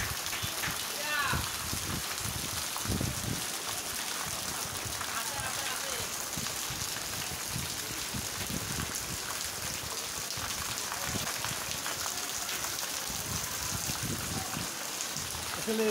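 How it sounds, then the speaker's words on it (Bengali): Steady rain falls throughout, a dense even hiss of drops on surfaces, with faint speech underneath. "সকাল থেকেই তাই বৃষ্টি দেখা যায়।"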